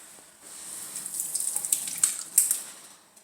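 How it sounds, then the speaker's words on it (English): A pint of heavy whipping cream is poured into a pot of chicken gnocchi soup, making a bright, splashing liquid stream that builds and bubbles for a few seconds, close and alone. "And this is 1 pint of heavy whipping cream."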